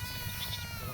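A single short bleat from a goat, close and clear, lasting under a second.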